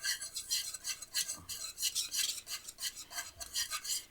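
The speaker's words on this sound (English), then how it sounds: "we're going to give this a quick stir" A spoon stirs elk parm marinara sauce in a pot, a quick run of rhythmic scraping strokes against the metal, close and fairly quiet, with no talking.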